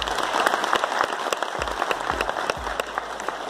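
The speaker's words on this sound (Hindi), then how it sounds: "पूरी ये ऑर्गेनाइजिंग टीम के लिए मैं चाहूंगा सम्मान में जोरदार ताली होनी चाहिए" An audience at a business seminar gives a loud round of applause in dense, continuous clapping. A few sharper individual claps stand out over the steady crowd patter, with no talking.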